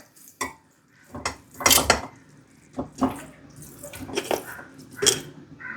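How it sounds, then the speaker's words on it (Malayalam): Beef pieces being dropped into a pressure cooker, heard as irregular clanks and knocks of metal and wet thuds, close and fairly loud, with a faint watery splash between them. "അത് ഞാൻ ബീഫ് ഇട്ട് കൊടുക്കുകയാണേ"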